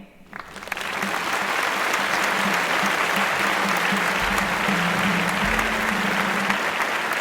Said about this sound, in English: And set him free by applauding.